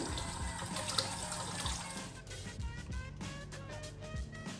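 Hot water runs steadily from a tap into a sink to warm a knife, with a continuous close splashing and a brief bit of speech under it.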